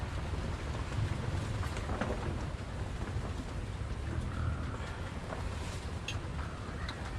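Steady rain pours down outdoors during a rainy-day cooking session with patola, a dense, even wash of noise lasting throughout with no voices and only faint scattered taps.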